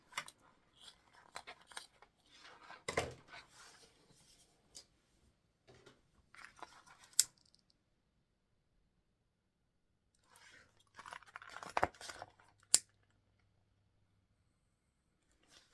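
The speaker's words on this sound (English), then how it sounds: "Cut off our zipper tape" Scissors snipping through zipper tape on a structured sewing-machine bag, several sharp close cuts in irregular bursts separated by silent gaps, crisp and quiet with no talk.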